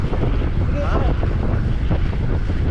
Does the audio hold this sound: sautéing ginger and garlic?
no